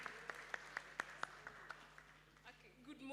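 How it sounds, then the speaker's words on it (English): Sparse, scattered hand claps from an audience at a graduation ceremony, about eight distinct claps spaced irregularly, faint and distant in a quiet hall. "Clap for her."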